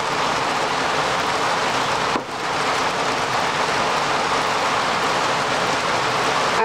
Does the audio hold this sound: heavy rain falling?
yes